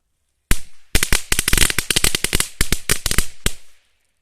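A string of small NWP Colibri firecrackers bursts in a rapid, crackling series of sharp bangs, close and loud, lasting about three seconds before stopping.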